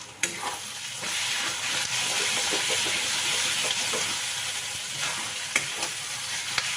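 Poppy seed paste frying with onions in a pan, a loud continuous sizzle with soft stirring scrapes and occasional clicks of the spatula throughout.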